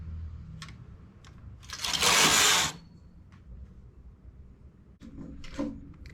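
A knitting machine carriage makes a single loud rushing, sliding sweep across the needle bed while a baby blanket is knitted. Lighter clicks and taps from the machine come before and after.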